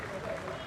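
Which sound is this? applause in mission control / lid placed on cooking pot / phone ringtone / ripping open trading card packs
applause in mission control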